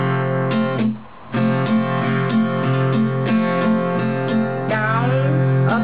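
An acoustic guitar is strummed in a steady down-up rhythm for a song, with ringing chords played close and alone and a brief muted gap near the start.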